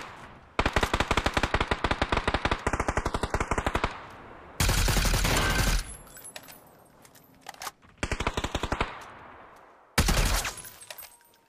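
Automatic rifle fire in the Counter-Strike mode of PUBG, a video game: loud, close bursts of rapid shots in several strings of about one to two seconds, separated by short pauses, with echoing tails.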